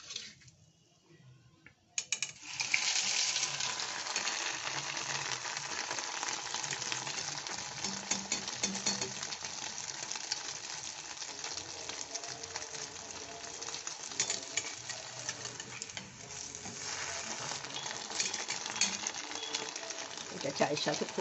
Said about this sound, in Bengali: এরকম একটু গোল্ডেন করে ভেজে তুলে নিতে হবে।